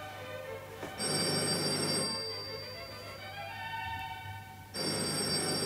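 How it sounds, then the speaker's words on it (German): An old-style telephone bell rings in two long bursts separated by a pause, bright and metallic against a quiet room hum. "Das ist das Telefon."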